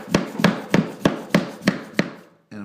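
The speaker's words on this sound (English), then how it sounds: "I'm just tapping this back." A wood floor spacer being tapped back into place near the floor's edge: seven sharp, evenly spaced knocks, close and fairly loud, followed by a short scraping rub at the end.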